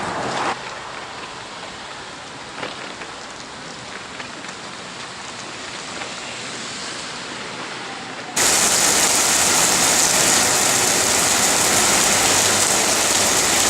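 Heavy rain pouring in Barcelona, a soft dense patter at first that jumps abruptly to a loud, steady hiss of downpour.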